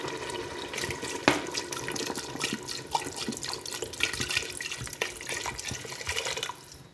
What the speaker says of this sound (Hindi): अब इसमें पानी ऐड करते हैं।